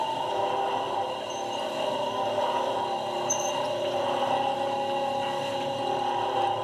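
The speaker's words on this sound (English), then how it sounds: "the friction of the strings rubbing over the wheel creates sort of a droning sound" An Apprehension Engine's hurdy-gurdy wheel is cranked against its strings, giving a steady, continuous drone that holds at an even loudness throughout with no talking.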